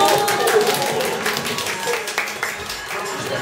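Audience applause and clapping at a flair bartending show in a bar, dense and steady across the whole stretch, with crowd noise and some voices mixed in.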